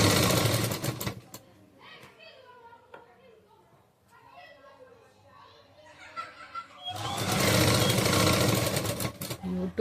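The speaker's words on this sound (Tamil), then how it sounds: "ரெண்டு தையல் போட்டுக்கோங்க." An electric sewing machine stitches an umbrella churidar cut from a saree, running in a fast buzzing burst at the start, falling quiet while a person talks, then whirring steadily again for the final stretch.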